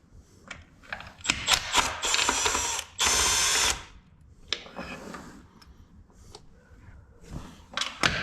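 A ratchet wrench tightens 7/16 bolts on the exhaust of a 1959 Apache truck, giving close, loud bursts of rapid clicking with short pauses between them.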